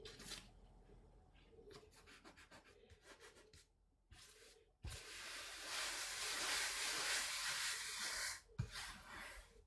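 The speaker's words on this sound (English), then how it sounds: "make sure you're rubbing that in as best you can" Foil is rubbed onto adhesive on a watercolor botanical piece, giving quiet close brushing and rubbing strokes in short bursts, then a louder, steadier rub for several seconds before it stops abruptly.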